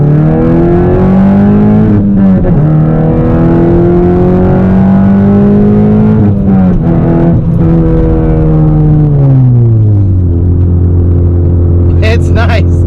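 A 9th gen Honda Civic Si engine pulls hard while driving, its loud droning note rising through gears with brief dips at each shift, heard from inside the car with a voice talking over it.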